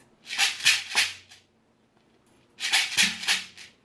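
Two bursts of a bright, hissy shekere gourd shaker rattle, each made of three quick shakes, separated by a short pause.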